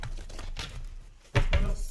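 Tarot cards being shuffled, short papery riffles and crinkles at close range, with one louder burst of card flicking near the end.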